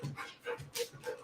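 A dog gives soft whimpers and panting breaths in a short, close run of uneven pulses, with no one talking.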